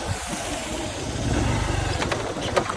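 A vehicle engine drones steadily while driving along a rough village road, with a low rumbling hum and broadband road noise throughout and a few brief rattles near the end.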